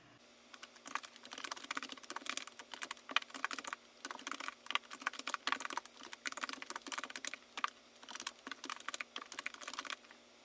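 Code being entered on a computer keyboard for a web-crawling exercise in Google Colab: fast, irregular clicking keystrokes in close, continuous bursts with small pauses, and no voice.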